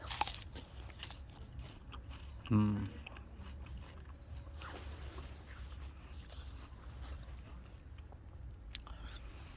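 One loud crunchy bite into a firm, juicy pear, followed by soft close chewing while someone speaks in between.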